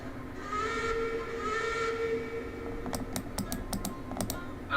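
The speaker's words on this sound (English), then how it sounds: "Oh yeah, I can hear the whistle." A steam locomotive whistle in Railroads Online sounds in two long, steady, hissing blasts at moderate distance, followed by a rapid clatter of keyboard typing.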